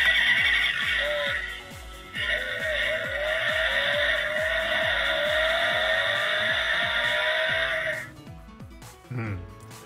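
Toy campervan minicar with a sound gimmick plays a loud electronic effect: a fast rhythmic engine-like pulse beneath a long blaring high tone that starts, breaks briefly, resumes and cuts off near the end, followed by a short chirp.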